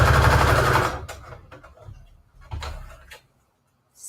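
A sewing machine runs a straight stitch on a small flower-and-words collage embellishment for a junk journal, a loud steady whirring burst for about a second, then intermittent clicks and short bursts as the fabric is handled.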